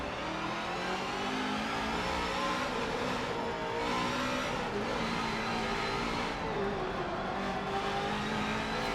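A Mazda race car engine in Forza Motorsport 7 revs steadily and loudly through a second-gear standing start, a sustained buzzing drone rising in pitch as it accelerates with no pauses.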